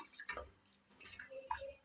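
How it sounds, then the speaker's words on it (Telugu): Water splashes and drips into a pot of egg and prawn curry in short irregular bursts, fairly close and soft, with no voices. "కొన్ని వాటర్ పోసుకుందాం"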